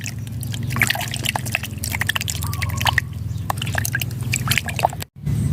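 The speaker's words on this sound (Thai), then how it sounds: "เราก็คนเลยนะคะ คนให้ยาเส้น มีฤทธิ์ออกมาให้มากที่สุดเลยค่ะ" Loose tobacco stirred into a litre of plain water: continuous close sloshing and swishing with dripping, wet splashes over a steady low hum, broken by a brief dropout near the end.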